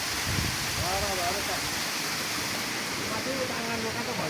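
Heavy rain falls steadily around a house, a dense continuous hiss with no break, while voices talk faintly underneath.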